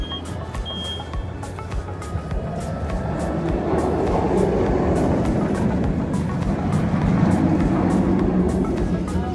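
A roller coaster runs at SeaWorld San Antonio, a continuous rumbling roar of cars on track with faint rhythmic clacking that swells louder toward the end, no talking.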